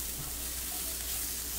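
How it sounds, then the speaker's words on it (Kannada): Grated coconut frying in a pan gives a steady, dense sizzle that holds close and even throughout, with no voices over it. "ಸ್ವಲ್ಪ ನೋಡಿ ಈ ರೀತಿ ಫ್ರೈ ಮಾಡಿ ತಣ್ಣಗಾದ್ಮೇಲೆ ಇದು ರುಬ್ಲಿಕ್ಕೆ ಉಂಟು."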